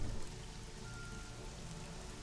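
Rain falling outside at a fortified estate, a steady soft hiss of drops without a break, faint and even.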